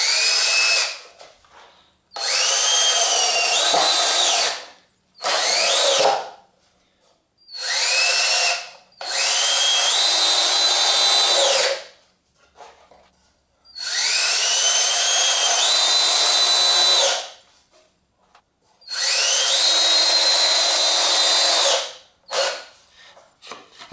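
A power drill drives 2 inch screws into wooden boards for a screen printing press, in five or six loud whirring bursts of a few seconds each, separated by short pauses, with no talking.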